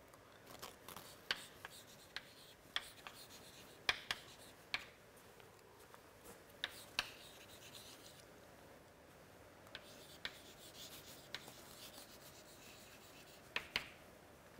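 Pen or chalk writing the lens equation on a board, with faint scratchy strokes and sharp little taps scattered irregularly over quiet room tone.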